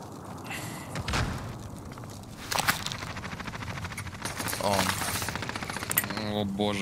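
Rapid bursts of automatic gunfire rattle through a video game match, dense and loud with thuds and impacts, while players talk over the shooting.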